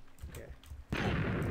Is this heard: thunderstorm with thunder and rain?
no